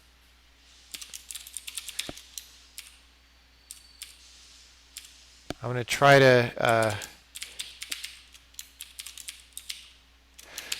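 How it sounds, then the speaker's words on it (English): Quick bursts of clicky typing on a computer keyboard, close by, with a short stretch of someone speaking in the middle. "I'm typing random things to try and remember"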